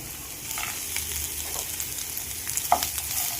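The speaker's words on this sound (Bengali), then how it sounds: "এগুলো আমি ভালো করে ভেজে নেব।" Green chillies, cashews and coriander leaves fry in a pan with a steady, soft sizzle, with a few light scrapes and stirring clinks near the middle and end.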